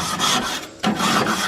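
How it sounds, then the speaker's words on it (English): A hand scraper rasps dirt off a surface in close, steady strokes, with a brief pause partway through before the scraping resumes. "And then I can use this one to scrape the deeper ones."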